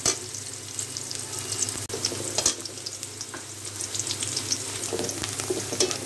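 Onions soften over low heat in a pan for an eggplant and mola fish dish, giving a steady, even sizzle throughout with faint crackles and a few light utensil clicks, and no voices.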